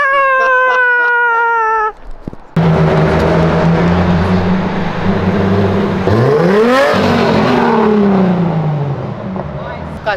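A drag racing Ford Mustang with over 1000 horsepower roars past fast and close, its engine pitch sweeping up then dropping away as it passes, after a short tonal sound at the start.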